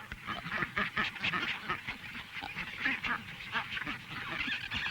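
Gannets call at a crowded island nesting colony: a dense chorus of harsh, honking cries rises and falls continuously at moderate distance.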